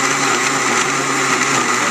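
A blender or food processor chops six ounces of beef with a steady, loud, continuous whirring grind that keeps the same level throughout, with nothing else heard over it.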